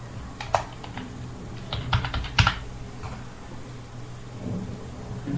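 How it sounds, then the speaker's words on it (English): Close, irregular keystrokes on a computer keyboard come in short bursts with pauses between them, over a low background hum. "So I am typing admin."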